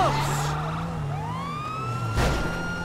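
Police car sirens wail in a video game, with rising and falling tones sweeping over a low steady engine hum, loud and close, with a brief burst of noise partway through.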